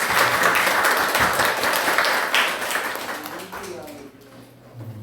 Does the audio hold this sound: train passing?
no